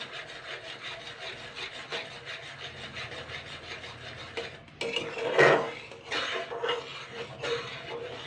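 A spoon scrapes and rubs around a pot of thickening cornflour mixture for a Bengali pitha, in repeated rhythmic strokes that turn louder and more clattery toward the end, with no talking.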